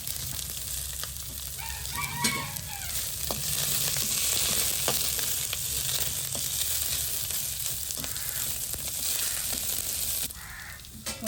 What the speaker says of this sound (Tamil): பெருஞ்சீரகம் போட்ட உடனே வெங்காயத்தை போடுங்க. வெங்காயம் பச்சை மிளகாய் கருவேப்பிலை